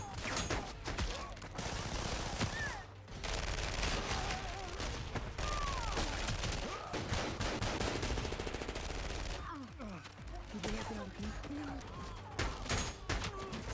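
Gunfire in a film battle crossfire, dense continuous volleys of shots mixed with explosions and chaotic background noise, sustained and loud throughout with voices briefly audible.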